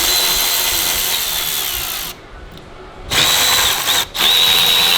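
Power tool unbolting the AC compressor on a Ferrari 458, a loud continuous whirring drill with two brief pauses before running again.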